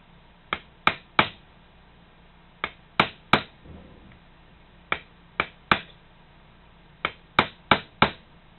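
Light hammer taps on a steel punch driving a pin straight out of a part held in a vise, beside a plastic housing: about fifteen sharp, close metallic clicks in small pairs and clusters separated by short pauses, with no voices.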